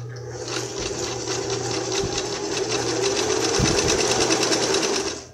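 A Singer sewing machine stitching runs steadily for several seconds, a loud close rhythmic mechanical whir with rapid needle ticks, rising slightly before stopping at the end, without talk.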